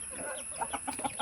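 Village hens kept for brooding cluck in a quick series of short, fairly faint bursts, several soft calls in an uneven rhythm with no talking over them.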